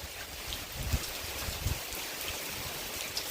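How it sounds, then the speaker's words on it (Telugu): Heavy rain pours down steadily during a thunderstorm, a dense continuous hiss of falling water with a few soft low thumps, close by and without any talking. "ఇదిగోండి వర్షం స్టార్ట్ అయింది వర్షం మాత్రం తెగ పడతా ఉంది"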